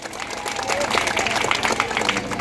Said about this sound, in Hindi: इस मुहिम के लिए जोरदार तालियां होनी चाहिए।